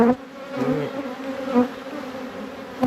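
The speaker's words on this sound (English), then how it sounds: "Really healthy bees, I'll tell you that." Healthy honey bees hum from an opened hive, a close, steady buzz with wingbeats swelling and fading as individual bees pass near, and no voices.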